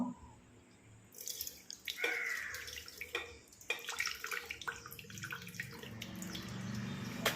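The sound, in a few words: pouring cream into mixer jar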